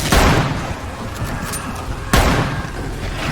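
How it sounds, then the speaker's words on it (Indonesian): Two loud, sharp gunshot blasts about two seconds apart in a film scene, each followed by a rumbling decay under a noisy, tense background. "Saat itu, Bill sempat terkena tembakan dan Frank dengan cepat menyelamatkannya."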